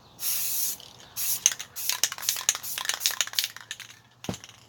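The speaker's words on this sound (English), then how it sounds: "Make sure it's spraying good." Spray paint can releasing brown paint in bursts of hiss, first one long spray then a run of short rapid spurts, close and loud with no talking.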